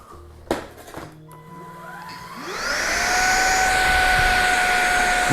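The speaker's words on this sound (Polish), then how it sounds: "Co? Odkurzacz? Jak ten nasz?" A tall, upright Dyson-style vacuum cleaner with a light switches on after a few clicks and handling knocks, its motor whining up to a loud, steady roar with high tonal whine that runs without talk.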